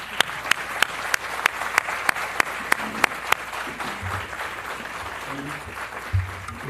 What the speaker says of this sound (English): Let's give a round of applause to our speakers and moderator.